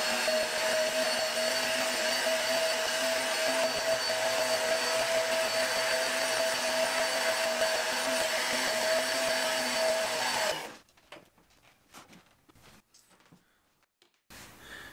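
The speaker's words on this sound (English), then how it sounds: "I'm going to vacuum this room for the first time now." Vacuum cleaner running steadily as it cleans a dusty room, a loud continuous whine and roar that cuts off abruptly near the end, leaving faint scattered knocks and handling noises.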